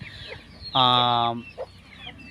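A hen among chickens raised for their chicks gives one loud, drawn-out harmonic call, close and clear over quiet farmyard background, followed by a brief softer sound.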